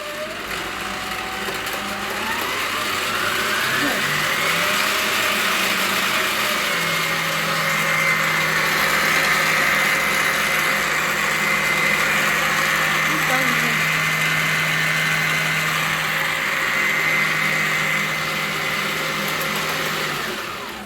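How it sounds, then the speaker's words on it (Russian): A WOLL stand mixer on its first speed drives a meat grinder attachment and blender together, giving a steady motor whine with a sustained low hum throughout, joined by gear noise and a rising pitch early on. "На первой скорости, смотрите, работает и мясорубка, и блендер."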